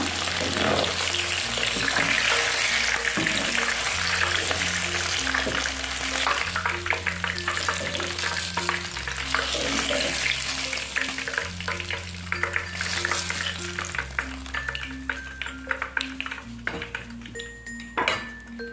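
Shallots frying in oil in a pan for nila sambal cobek, a steady, close sizzle running throughout with occasional clinks of a utensil, while low tonal background music plays underneath.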